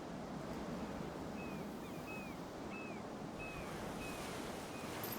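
Coastal wind blows in the Life is Strange video game, a continuous broad rush with surf-like wash. A few short, faint bird chirps rise above it at intervals.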